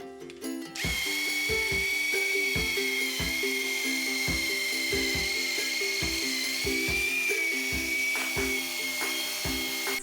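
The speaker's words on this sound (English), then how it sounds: "using a scrubber power tool if you like to go big" A handheld power scrubber working on a dirty glass stovetop, its motor whining steadily and up close, with rhythmic knocking pulses as the brush runs over the glass without a break.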